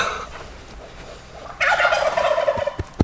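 Farm turkeys gobble loudly and close by in a rapid rippling burst halfway through, after a quieter stretch, with a few sharp knocks at the end.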